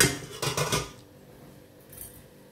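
Boiled cassava gnocchi are drained from a metal pot, with a short burst of clattering and splashing that fades quickly into a quieter kitchen background.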